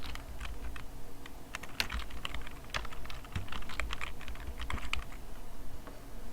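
Typing on a computer keyboard while editing in Premiere Pro, a steady run of quick, light key clicks with a few louder taps, close and continuous, no voices.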